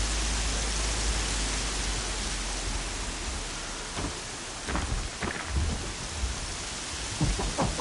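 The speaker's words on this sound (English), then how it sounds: "Not gonna hear a thing over this storm." Steady heavy rain and storm noise in the Horizon Zero Dawn video game, a dense wash that runs the whole time, with louder gusts and thumps rising near the end.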